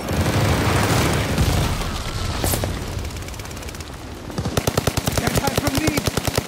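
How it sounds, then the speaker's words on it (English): Call of Duty Vanguard glide bomber attack: a dense, loud roar of blasts and fire gives way to a rapid, evenly spaced burst of heavy gunfire near the end. "Friendly glide bomber incoming."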